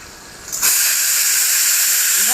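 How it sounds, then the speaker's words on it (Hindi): Masala sizzles in a hot pan as it is stirred and fried, a loud, steady hiss that bursts up suddenly when the spices hit the oil and continues close and unbroken. "तो अच्छे से मसाला चलाते हुए पका लेते हैं।"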